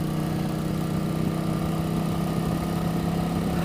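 A 1988 Yamaha XV1100 Virago motorcycle engine runs at a steady idle, a continuous close, even rumble with no change in pace and no voices.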